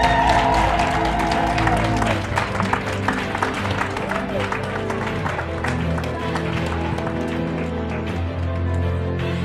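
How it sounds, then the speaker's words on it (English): Audience applause at a 2019 circle leaders' graduation ceremony, steady clapping from a large crowd that holds at an even level for the whole stretch, with faint murmuring mixed into it. "Let's just stand up and just give her a round of applause."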